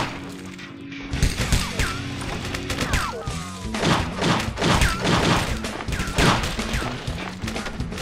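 Gunfire in True Crime: Streets of L.A., a police action game on PC, rattles in a busy exchange of shots, crashes and thuds layered with music and effects, loud and continuous with no voices.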